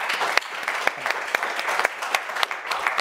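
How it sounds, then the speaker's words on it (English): Audience applause closing a geopolitics panel discussion, a steady bed of clapping from a crowd with crisp individual claps popping out near and loud throughout. "A round of applause"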